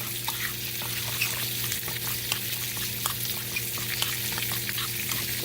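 Seasoning stirred together for spicy salmon, heard as a run of light scraping clicks over a soft, steady hiss.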